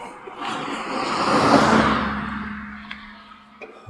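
A car passes on a quiet asphalt road beside a mountain bike trail, swelling from faint to loud and fading away over a few seconds, with light rustle around it.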